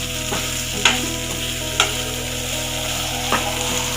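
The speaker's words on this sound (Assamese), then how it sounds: "মছলাখিনি সান খাবৰ বাবে ভালদৰে মই মিহলাই দিছোঁ" Pointed gourd masala stirred and frying in a pan, with a steady close sizzle and a few sharp spoon scrapes spaced through, no voices.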